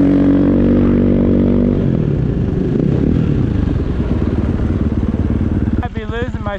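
Timber sled snow bike engine running loud and close at a snow park, a rough droning rumble that shifts pitch as it revs, with a brief voice near the end.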